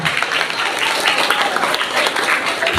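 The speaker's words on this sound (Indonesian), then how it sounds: "Tepuk tangan dulu." Pupils and guests at a sixth-grade primary school farewell ceremony clap together, a brief burst of dense, steady applause at moderate loudness.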